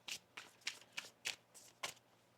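A deck of tarot cards is shuffled in about seven quick, crisp riffling bursts, evenly spaced and close up, with nothing else heard between them.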